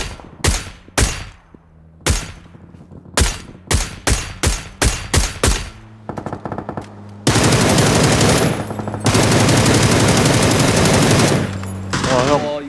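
Rapid bursts of automatic gunfire from the video game PUBG, sharp repeated shots in quick volleys, then a long dense stretch of sustained loud firing and noise near the end.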